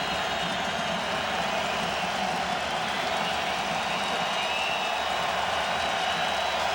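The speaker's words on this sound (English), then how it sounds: "They've got a good crowd at BC Place." Loud, sustained crowd roar fills a packed BC Place stadium during a night CFL football game between the Calgary Stampeders and BC Lions, a dense steady wash of cheering with no break.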